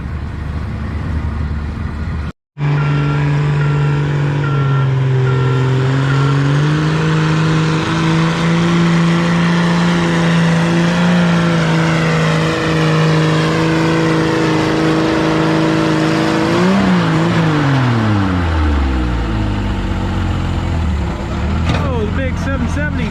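Tractor engine at a tractor pull, a sustained loud roar whose pitch climbs and holds through the pull, then sweeps down as the run ends, with a commentator talking over it.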